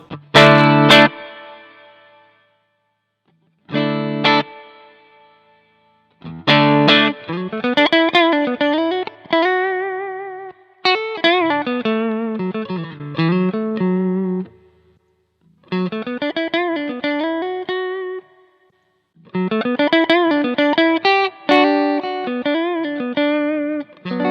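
An electric guitar plays through a BluGuitar AMP1 amplifier with its boost engaged, giving a pushed, lightly distorted tone; chords and melodic phrases ring out in bursts separated by short silences, close and loud with no talking.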